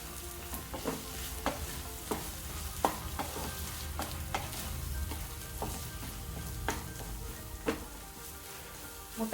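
Egg kothu parotta being stirred and mixed on a hot street-side griddle with mint and coriander leaves, a steady sizzle broken by sharp metallic scrapes and taps of the spatula at irregular intervals.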